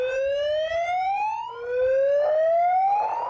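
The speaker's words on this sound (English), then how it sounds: "Those are flood sirens blaring in Russia near the Kazakhstan border." Flood sirens blare in Russia near the Kazakhstan border during severe flooding, two loud, steadily rising electronic wails sounding one after the other with little else around them.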